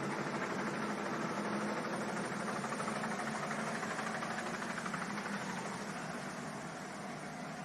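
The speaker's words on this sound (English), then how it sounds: "hearing those big engines and seeing those big sprays coming off the back" Big racing powerboat engines at the St. Pete Powerboat Grand Prix produce a dense, continuous roar, loud and unbroken throughout, with no voices.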